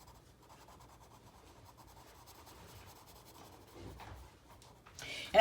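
Colored pencils shade on paper with a light, continuous scratchy rubbing that is close and quiet, rising slightly near the end with a brief louder bump.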